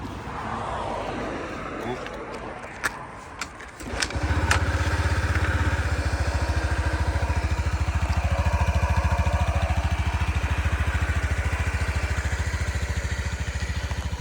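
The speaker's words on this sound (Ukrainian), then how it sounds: "Ну, а тепер послухаємо, як працює тут двигунчик." A Honda Zoomer X 110 fuel-injected scooter starts after some clicks and handling noises, then idles steadily and loudly up close with a buzzy rhythmic thrum, while people talk over it.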